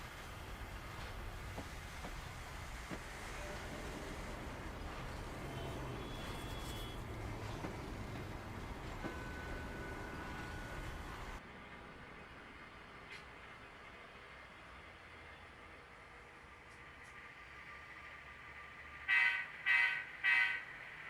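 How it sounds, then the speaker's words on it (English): A train on the Penn-Reading Industrial Division heads toward Reading, Pennsylvania, giving a steady low rail rumble that drops to a quieter hum, followed near the end by three short electronic beeps. "Like clockwork, the train heads to Reading,"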